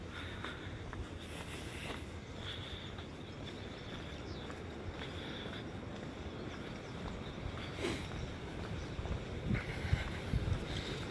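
Steady wind blowing outdoors at a park, a broad, continuous rush with gusty buffeting against the microphone, growing slightly stronger toward the end, with no voices.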